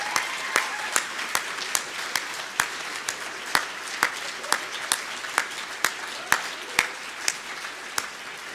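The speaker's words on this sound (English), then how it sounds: "So I'd just like us all to give her a round of applause." Members at a live-streamed ambulance trust annual meeting applaud steadily, a crowd of hands clapping in a dense, even wash with regular louder claps punctuating it.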